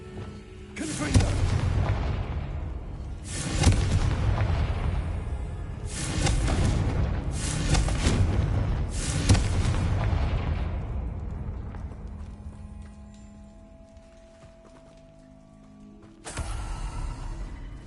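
Fire-spell explosions in a fantasy wizard video game go off in a series of about five heavy booming blasts, each a loud broadband burst that fades before the next, then a quieter lull and one final blast.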